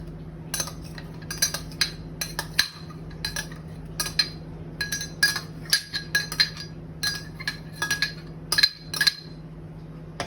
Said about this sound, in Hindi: ऑयल डालने के बाद हम इसमें जो हमने ये जो मिक्सचर बनाया था उसको डालेंगे